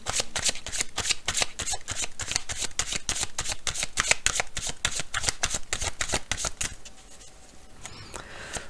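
Tarot cards are shuffled rapidly and continuously up close, a dense rhythmic riffling patter that stops near the end, leaving a quiet room.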